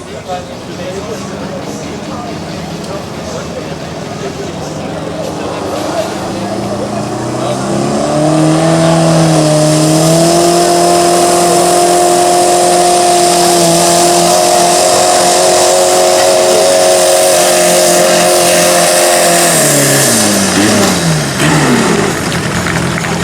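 A garden tractor's 306 engine roars and climbs in pitch under sustained strain, holding a high rev for several seconds before dropping off, with voices nearby.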